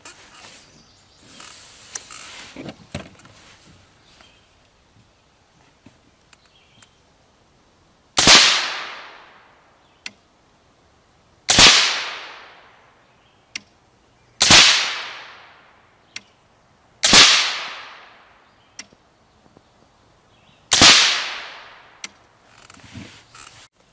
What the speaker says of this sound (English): Second group, with the Rebel Silencers SOS-Hunter, bottom left, 5 rounds.